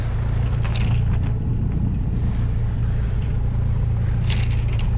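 A sailboat motoring into the wind on the open sea between Jamaica and Panama, its engine giving a steady low drone under rushing wind and water, continuous and fairly loud with no voices.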